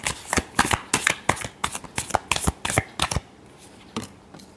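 Tarot cards are shuffled vigorously close by, giving a quick, irregular run of loud papery slaps and riffles that eases off into a few last taps.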